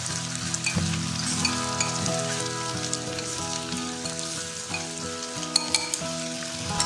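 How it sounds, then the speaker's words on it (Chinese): Shiitake mushrooms stir-fry with ginger, garlic and chili in a hot pan, giving a steady close sizzle broken by repeated spatula scrapes. "加入姜蒜、小米椒炒香， 放入香菇翻炒一下"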